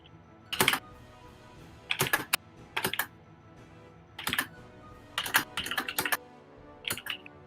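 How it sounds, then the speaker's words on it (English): Someone types on a mechanical keyboard with Cherry Red switches, producing close clattering bursts of several rapid keystrokes separated by short pauses, with no talking. "Those are some cherry red switches if I ever heard them."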